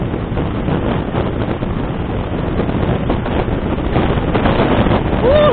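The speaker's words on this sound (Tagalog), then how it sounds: "Grabe, lakas ng hangin." Strong wind buffets the microphone during a night road trip, a loud, constant roaring rumble that stays close and unbroken throughout, with no voices.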